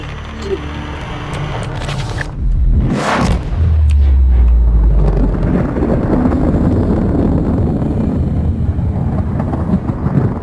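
Dark matter reactor explosion in the video game Subnautica: a sharp blast followed by a loud, sustained deep roar and rumble that carries on to the end.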